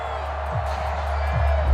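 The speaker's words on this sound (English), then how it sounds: "The crowd getting into it as we come up on a big 3rd down." Stadium crowd in Madden NFL 22 building toward a big third down, a steady broad roar of cheering that swells slightly toward the end, under a low hum.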